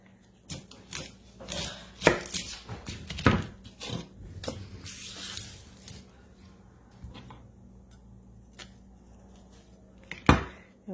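An onion being cut with a knife on a board: several sharp knocks of the blade, some spaced and a few in quick bursts, close and fairly loud, with faint kitchen clatter between.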